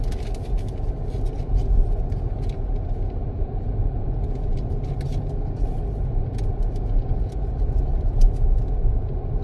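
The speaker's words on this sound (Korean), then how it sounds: "시내 주행을 좀 다녀볼 텐데요." Car driving through city streets, a steady low road rumble and engine drone throughout with faint scattered traffic sounds, no talking.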